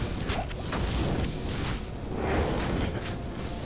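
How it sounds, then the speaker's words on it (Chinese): A rumbling explosion in the Diablo II action role-playing game, a dense boom with crackling debris and whooshing layers sustained through the scene, fairly loud and continuous. "爆炸"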